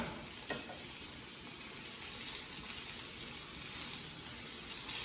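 Small, thin pork chops fry in a pan with a soft, continuous hiss and sizzle, faint and steady, with one brief tap near the start.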